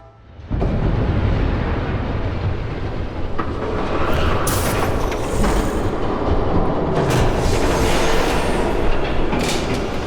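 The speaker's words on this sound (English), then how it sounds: "There's a train coming." A train in the Batman Telltale game roars past loud and close, its rumbling wheels and clattering cars building suddenly and holding steady, with high screeching bursts partway through.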